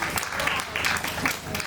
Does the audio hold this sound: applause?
yes